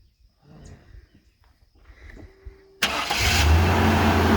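A broken-down car's engine cranks briefly and then catches, settling into a loud, steady idle that continues to the end; faint quiet sounds precede it.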